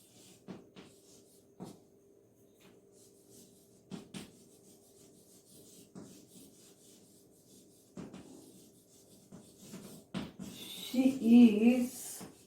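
Chalk or marker scrapes on a classroom board in short separated bursts, faint and intermittent, with a teacher's voice and class sounds in the room and a louder rubbing stretch near the end.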